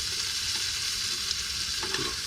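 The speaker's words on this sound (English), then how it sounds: "These mushrooms are kind of cooking in there." Mushrooms sizzle in a small 8-inch pan on a compact camping grill, a steady close frying hiss with a couple of light clinks near the end.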